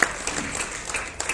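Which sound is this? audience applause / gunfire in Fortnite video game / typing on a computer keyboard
audience applause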